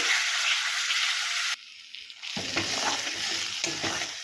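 Mushroom masala sautés in a pan, a loud bright sizzle that suddenly drops away, then returns softer with repeated scraping stirs of a spoon.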